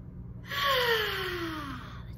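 A big deep breath drawn in by people at a children's story session, one sustained breathy inhale with a sliding whistly tone, fairly close and loud, no talk.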